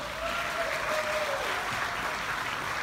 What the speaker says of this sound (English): Please give yourself a big round of applause for being here.